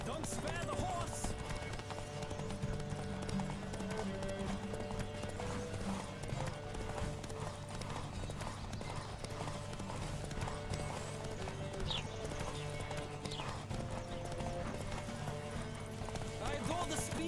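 Hooves clip-clop at a gallop in The Witcher 3 during a horse race, a fast steady beat with an occasional neigh, beneath game music and voices speaking.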